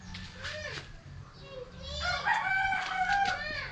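Chickens crow and cluck close by in a rural yard, several short calls early on, then a louder rooster crow with overlapping clucks, faint background noise beneath.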